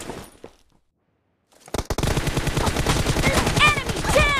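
Automatic weapon fire in PUBG Mobile during a team deathmatch bursts in loud, rapid sustained volleys after a short silence, with sharp ricochet-like whines near the end.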